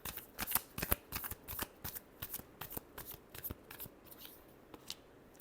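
Tarot cards shuffled in a quick run of crisp riffling flutters, each burst short and close, repeating irregularly for several seconds with no voices.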